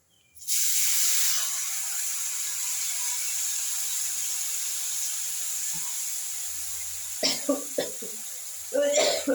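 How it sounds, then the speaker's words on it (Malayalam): A steady sizzling hiss of chili frying runs throughout, and near the end a few short, sharp coughs from the burnt chili fumes break through close by. "മുളകിൻ്റെ കരിഞ്ഞ മണം വന്ന് ചുമച്ചു"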